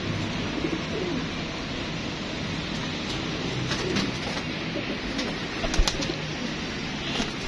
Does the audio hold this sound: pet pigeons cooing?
yes